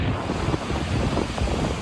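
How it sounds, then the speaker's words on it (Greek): Strong wind from Hurricane Ian making landfall in southwest Florida buffets the microphone with a dense, continuous roar mixed with surf-like rushing, loud and unbroken for a brief moment. "Hurricane Ian is now making landfall in southwest Florida with winds of 155 miles per hour."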